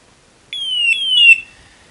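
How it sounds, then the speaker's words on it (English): A GFG G460 multi-gas detector alarm chirps in quick descending beeps, high, sharp and close, lasting about a second before cutting off. "Instrument goes in alarm."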